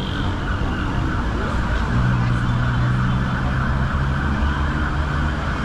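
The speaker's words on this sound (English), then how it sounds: "What's up with this ambulance?" Ambulance siren on Copacabana beach in Rio, a steady wailing tone carried over loud continuous street and crowd noise, moderately near and sustained throughout.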